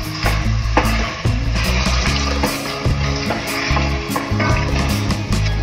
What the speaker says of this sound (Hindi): इसे हम 5 से 10 मिनट अच्छे से तेल आग में भून लें।